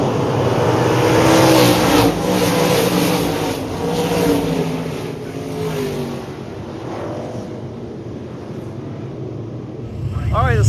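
Stock cars race at 81 Speedway during a weekly event, a steady engine roar with rising and falling passes heard from the stands, loud at first and then easing before another car sweeps close at the end.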